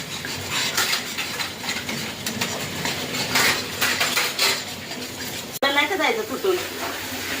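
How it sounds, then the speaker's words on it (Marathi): Masala paste of mint and chilli roasts in a pan while a spoon stirs and scrapes, giving a busy sizzle with metallic clinks; a song plays in the background and a sharp knock cuts in near the end. "आपली पेस्ट चांगली भाजत आलेली आहे."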